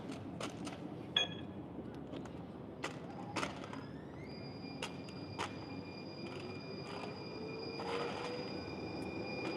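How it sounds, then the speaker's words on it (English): A train rolls past in a San Francisco city street, with clanking wheels, sharp metallic clicks and a sustained high squeal from the rails building toward the end. "Wanted to give you guys a shot of the train in the city here."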